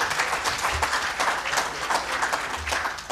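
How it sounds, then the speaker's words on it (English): Audience applause at an economic summit, a full crowd clapping steadily and evenly from start to finish. "Round of applause, ladies and gentlemen."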